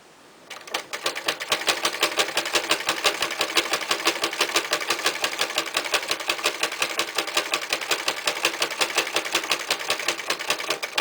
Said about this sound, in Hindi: अब मैं इसे यहाँ पे सिलाई लगाऊंगी।